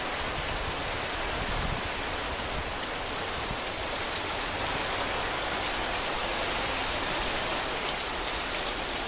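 Heavy, windy rain pours steadily, a dense continuous hiss of water hitting surfaces with no pauses and no voices.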